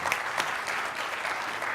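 Audience applause at an ASU GSV Summit talk, a steady dense wash of clapping from a seated crowd, moderately loud and continuous with no talk over it.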